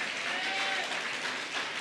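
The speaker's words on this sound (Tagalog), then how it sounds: "Palakpakan nga po natin ang atin pong Panginoon" A church congregation applauds at a Resurrection Sunday service, steady sustained clapping from many hands filling the room throughout.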